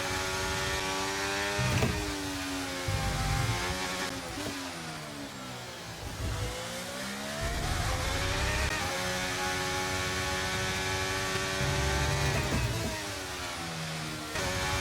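F1 car from Braking Point 2 on a fast lap with the hybrid battery fully deployed: a continuous high-revving engine whine climbing and dropping through gearshifts, with brief dips into corners, loud and steady throughout.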